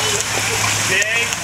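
A child jumps into a swimming pool and splashes. The burst of water is brief and close, over a steady wash of pool noise, with a faint voice in the background.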